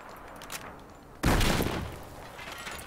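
A single loud burst of gunfire in the shooter Battlefield 4 erupts abruptly and rings out over a quieter background of distant shots and ambience.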